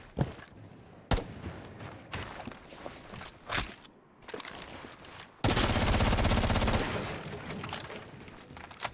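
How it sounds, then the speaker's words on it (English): Gunfire in the console game Rainbow Six Siege: several sharp single shots and short bursts, then a long, loud, sustained automatic volley near the end. "I'm gonna shoot this open."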